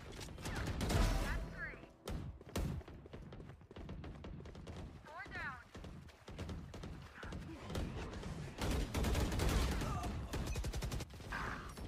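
Bursts of video game gunfire in a team deathmatch, with repeated shots scattered across the stretch and people talking over them throughout.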